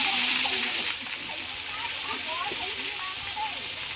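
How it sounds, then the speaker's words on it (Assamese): Meat frying in a kadai with onion and garlic paste, a steady close sizzle and hiss with faint bubbling crackles that runs the whole time, loudest at the start, with a faint voice and clatter in the background. "এতিয়া মাংস ইয়াত ঢলা হ'ব"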